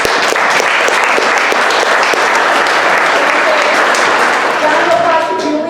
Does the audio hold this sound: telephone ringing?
no